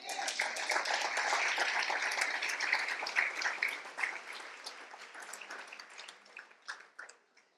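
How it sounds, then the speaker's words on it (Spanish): A church congregation claps and cheers during a sermon, dense at first and thinning out into scattered claps toward the end. "¿Le quiere dar un aplauso al Señor?"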